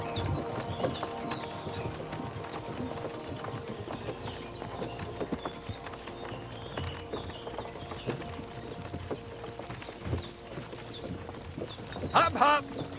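A horse's hooves clip-clop steadily while being ridden in Kingdom Come Deliverance II, a rhythmic, fairly faint trot that continues under the game's background sound.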